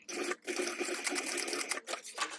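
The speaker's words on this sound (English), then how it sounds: "I'm going to do 2 rows of stitching on that one as well." A sewing machine stitching a bag strap with two rows of stitching, a close, fast and steady mechanical whir with brief pauses between bursts, with no talking.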